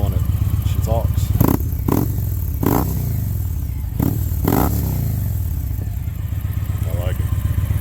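A 2016 Victory Cross Country Tour motorcycle fitted with a Mutazu Thunder exhaust idles with a deep pulsing rumble, then revs hard in several sharp throttle blips, loud and close.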